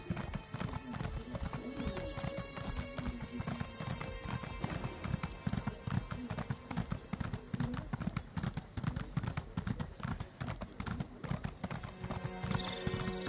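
A horse's hooves clip-clop in a video game at a steady trotting rhythm, close and continuous for over thirteen seconds beneath a layer of game ambience and music.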